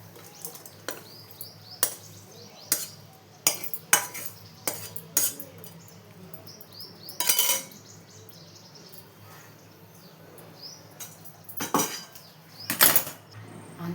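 A metal spoon scraping and clinking against a pan while brinjal and broad bean curry is scooped into a bowl, sharp intermittent knocks with quiet gaps and birds chirping faintly in the background.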